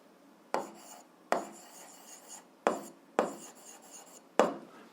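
A pen writes on paper in short scratchy strokes, about five distinct bursts each fading out, close and fairly quiet with no voice over them.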